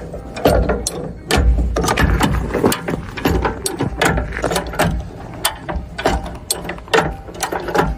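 A high-lift jack cranked up under a 4x4, giving a steady run of sharp ratcheting clicks and metallic clunks from the pawl with each pump of the handle, close and loud, with no talking.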